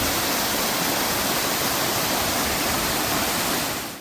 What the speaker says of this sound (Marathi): हा जो धबधबा आहे तो अगदी वरून येतोय, वरून असा खालपर्यंत जातोय, खूप मोठा आहे